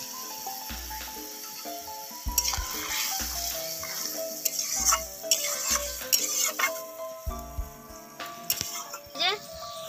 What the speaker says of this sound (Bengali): এরপর এই যে ভেজে রাখা বেগুন আমি এর মধ্যে দিয়ে দিচ্ছি।